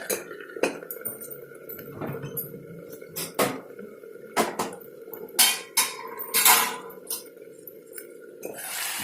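Metal lid clanking onto a pot during home cooking, a series of sharp clinks and knocks spaced irregularly over a quiet kitchen background, loud and close.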